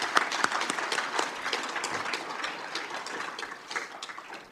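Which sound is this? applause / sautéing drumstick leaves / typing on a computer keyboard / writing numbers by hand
applause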